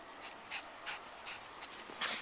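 A dog panting and playing in the snow, with soft breathy bursts recurring every half second or so, close by and moderately quiet, with no talk.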